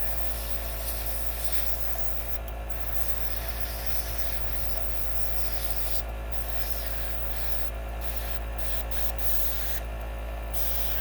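A Gaahleri Ghad 39 airbrush sprays base coat paint in short hissing bursts of varying length over a constant low compressor hum, close and clear, with no speech.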